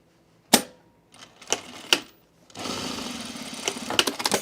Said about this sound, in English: Sew this waistband on.